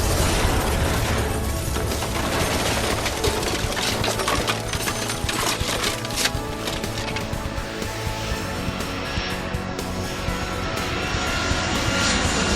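An airplane takes off in the video game Airport Madness 3. A steady, droning aircraft engine roar carries through the whole stretch at an even, fairly moderate level.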